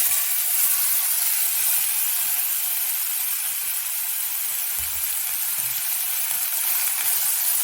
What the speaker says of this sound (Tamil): பிரண்டை நல்லா இந்த பச்சை கலர் மாதிரி ப்ரௌன் கலரில் வர வரைக்கும் வதக்கணும்